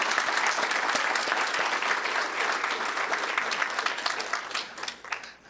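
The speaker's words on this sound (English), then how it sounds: "Craig another round of applause?" Sustained applause from a Women's History Month celebration audience, dense and steady throughout, thinning slightly near the end.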